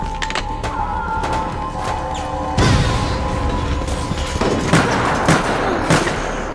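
Gunfire from a zombie shootout in the Resident Evil Raccoon City video game, with a loud burst of shots and impacts partway through, then further clustered shots over a steady background of game ambience and music.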